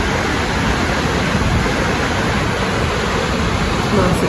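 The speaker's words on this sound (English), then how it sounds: "It's the biggest waterfall in Iceland." A steady, loud roar of falling water fills the scene without pause, broad and continuous, from Iceland's biggest waterfall nearby.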